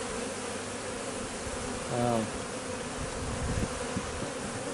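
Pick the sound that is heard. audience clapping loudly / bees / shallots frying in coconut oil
bees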